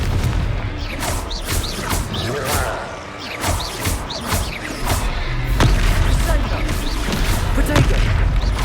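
A Confringo fire spell blasts in Hogwarts Legacy during a boss fight, landing as repeated booming impacts and crackling bursts amid dense battle effects and music, with a voice shouting over the din.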